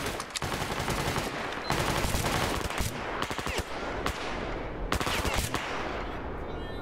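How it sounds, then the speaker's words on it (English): Heavy gunfire and blasts from a firefight in the game Stalker Clear Sky, with repeated sharp bursts and booming impacts rattling close by across the whole stretch, loud and dense with no talk over it. "Sounds like grenades are throwing."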